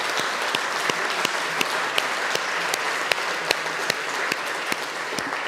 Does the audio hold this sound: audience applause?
yes